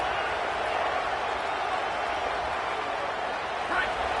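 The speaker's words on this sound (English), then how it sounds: "This crowd bringing the energy and noise early." A stadium crowd in the NCAA 25 college football video game gives off a steady, dense roar of cheering throughout, with a commentator talking over it.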